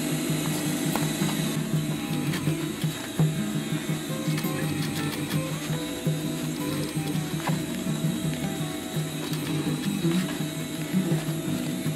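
A sewing machine stitches a 30-liter DIY backpack in a steady, busy mechanical chatter, needle and feed clicking rapidly and continuously at close range, fairly quiet with no talk over it.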